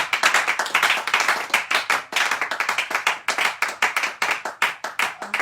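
A church congregation claps in a steady, rhythmic beat, loud and close, continuing throughout without speech.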